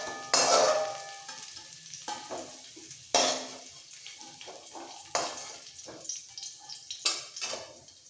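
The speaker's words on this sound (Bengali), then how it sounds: "কিশমিশগুলো একসাথে ভাজি নিয়ে দিতে হবে" Raisins fry in a pan in bursts of loud sizzling as they hit the oil, with several sharp flare-ups and softer crackling and stirring between them, close by and with no voices.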